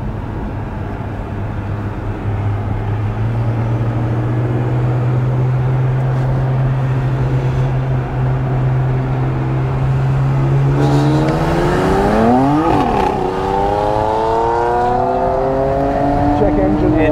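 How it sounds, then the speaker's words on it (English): A tuned BMW 335i with the N54 twin-turbo engine, running methanol injection and upgraded turbos, accelerates hard in a roll race; a steady cruising drone gives way to loud revving and rising pitch through gear shifts, with people talking inside the car. "now we're having a rerun against Tim. Right, no brake boosting this time"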